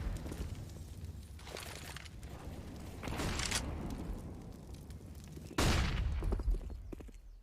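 Rapid gunfire from a Counter-Strike match on the Inferno map, with bursts and a sharp loud shot near the end, over a steady game ambience and faint footsteps.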